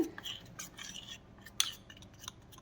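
A spoon clinks and scrapes against a bowl while mixing chocolate with pink colouring, with soft, irregular taps and one sharper metallic tick, faint and close, with no talking.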